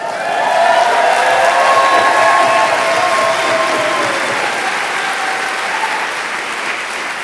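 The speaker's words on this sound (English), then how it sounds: "in this room, there's a cheer" An indoor audience at a climate rally applauds and cheers loudly, a dense sustained wash of clapping with voices whooping over it that slowly eases off.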